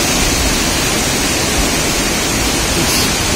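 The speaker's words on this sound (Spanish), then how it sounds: "fíjense cómo está el río, está muy pero muy cargado" Swollen, heavily laden river at the Pongo de Mainique gorge rushing past in a steady, loud broadband roar, close and continuous with no voices over it.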